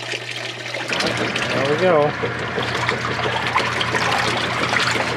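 Water runs into a repaired Whirlpool washing machine, rushing and splashing continuously after a short mechanical start, with a brief spoken remark partway through.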